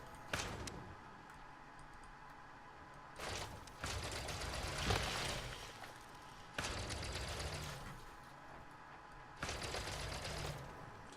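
A gun firing in the space game Elite Dangerous during planetary exploration, four separate sustained bursts of rapid mechanical fire, fairly quiet, with short pauses between them.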